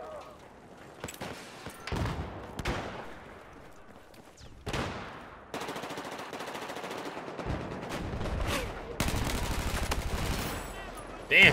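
Gunfire in the video game Battlefield 4: scattered single shots, then sustained rapid automatic bursts growing louder toward the end, with players talking faintly underneath.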